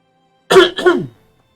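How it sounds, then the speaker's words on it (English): A single person clears their throat in two quick harsh bursts, close to the microphone, with silence before and after, during a casual Anno 1800 campaign playthrough. "Need to clear my throat."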